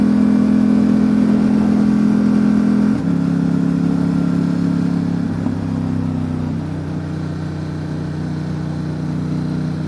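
A 2019 Ducati Diavel 1260 S with a Termignoni exhaust rides along on the road, its engine a loud, steady, throaty drone that shifts pitch now and then as the throttle changes, close and continuous with no talk.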